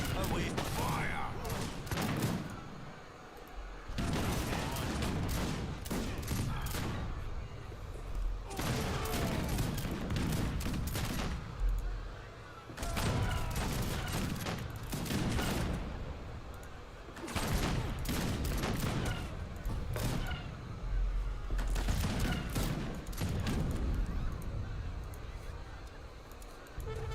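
Musket volleys crackle repeatedly in a battle in the game Age of Empires 3, with dense bursts of gunfire alternating with brief lulls, while voices speak through the fighting.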